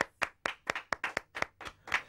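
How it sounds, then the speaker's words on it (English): Sparse applause from a small audience welcoming a guest at a book talk, about ten separate claps in an uneven rhythm, fairly close and with no voices. "Good, nice round of applause"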